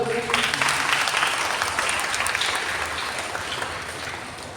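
A church audience at a Christ the King celebration in Lucknow applauds the parents with steady, dense clapping that fills the whole stretch and fades slightly toward the end.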